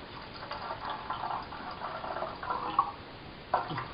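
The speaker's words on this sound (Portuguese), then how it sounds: "Eu vou colocar agora um pouco de água aqui" Water trickles into a camping mug beside an American-style camp stove, a steady soft pour with faint splashes and a couple of brief clinks near the end, fairly quiet and with no talking.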